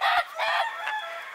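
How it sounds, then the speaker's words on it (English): A rooster at a farm in West Virginia lets out a loud, close crow that breaks into a couple of strained, raspy phrases and then trails off. "One of the roosters."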